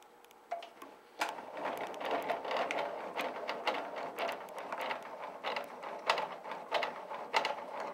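A wood planer's height adjustment is cranked up by hand, giving a steady run of ratcheting mechanical clicks and clunks that continue through the whole stretch at close range.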